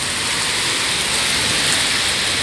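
Steady, dense rain falling during a storm in Maringá, a continuous broadband hiss of drops on surfaces that holds at an even, fairly loud level throughout with no voices.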